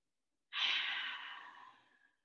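A single soft, breathy exhale during a wide-legged yoga child's pose, close and quiet, fading out over about a second and a half.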